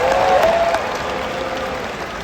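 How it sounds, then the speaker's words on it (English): Audience at a comedy show breaking into applause, a dense wash of clapping from a crowd that holds steady across the moment, with a brief whistle near the start. "I think you should give yourselves a round of applause for that."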